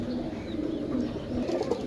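Pigeons for sale in Sarialamgir, Jhelum, coo in low, rolling throaty phrases close by, repeating steadily over a faint chirp and rustle with no talk.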